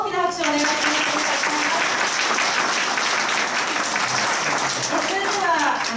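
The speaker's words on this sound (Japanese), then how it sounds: "もう一度大きな拍手をお願いします。" Loud, sustained audience applause at a 2019 protest rally against the Henoko base construction, a dense roar of many hands clapping throughout with voices faintly audible at the start and end.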